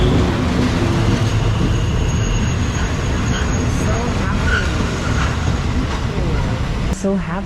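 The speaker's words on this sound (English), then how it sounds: "Just on time, and train is here." A train pulls into a station platform in Thailand, its broad, steady rumble holding close and loud for several seconds with a brief clatter near the end; a voice is faintly present.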